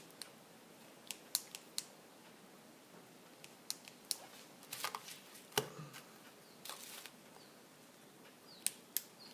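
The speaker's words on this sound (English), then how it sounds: "I think I might have to invest in a sharper pair of scissors." Scissors cut felt in scattered crisp clicks, some quick pairs and some isolated, quiet and close with no talking.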